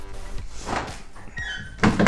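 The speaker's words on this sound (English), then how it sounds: "Just going to shut the rest of the door up in order to do that." A vehicle door is pushed shut while remote central locking is being tested, giving a solid thunk near the end amid low mechanical rustle and handling noise, with no speech.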